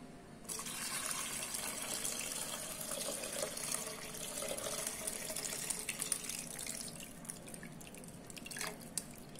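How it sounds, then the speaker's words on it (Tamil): Water pours steadily into a cooking pot with splashing and trickling, fairly quiet and continuous, no voices. "தண்ணி ஊற்றிக்கிறேன்."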